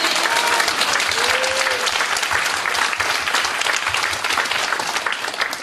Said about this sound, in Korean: 하나님께 한번 영광의 박수를 드리겠습니다